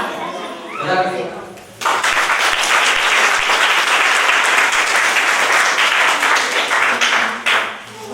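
Audience clapping at a talk or seminar, starting after a brief spoken prompt and swelling into loud, sustained applause for several seconds before tapering near the end.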